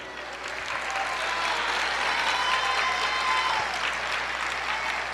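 Sustained applause from a church congregation fills the space, a dense and even wash of clapping from a large crowd lasting several seconds.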